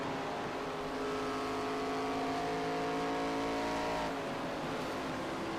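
ARCA-style stock cars race at Charlotte in a racing video game, their engines droning in a steady, sustained multi-car roar with a slight pitch shift near the end, moderately loud and without talk.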